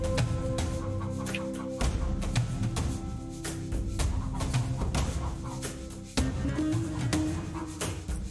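Zombie chickens cluck in the undead-themed video game Undead Horde, short fowl-like clucks scattered through a busy game soundtrack of steady tones and sharp hits.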